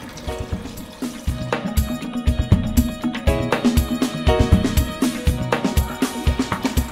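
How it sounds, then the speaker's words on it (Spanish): Cold water poured into a Teflon pot for a stovetop water bath while baking a vanilla cake; a steady, close pour with bubbling, splashing pulses and no talking. "Y vamos a agregar agua. Esta es agua fría porque va a ser al baño María"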